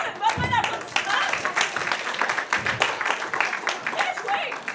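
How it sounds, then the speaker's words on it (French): Spectators at a juvenile team match clap in an uneven, lively burst, mixed with shouting and cheering voices throughout. "Encore une bonne main d'applaudissements!"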